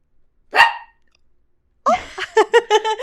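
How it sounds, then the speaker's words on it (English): A dog gives one sharp bark, then after a short pause a quick run of several barks in a row, close and fairly loud. "little bark to end the episode."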